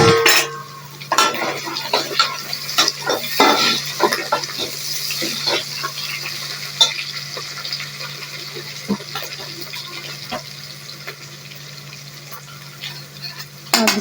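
Green chillies sizzle and fry in a pan while a utensil scrapes and clatters through them in irregular stirring strokes, steady close sizzle underneath throughout, with no talking.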